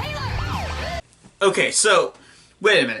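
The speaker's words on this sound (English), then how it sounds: "That noise was the ambulance, and you could hear it from the stairwell," Wailing ambulance siren from a film scene in Cyberbully, sweeping up and down loudly for about a second before it cuts out and people start talking.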